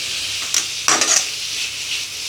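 Grated carrot sautés in a pan with a soft, steady sizzle, broken by a couple of brief scraping stirs from a utensil.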